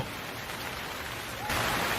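Steady rain makes a soft, even hiss that grows noticeably louder and fuller partway through, with no voices over it.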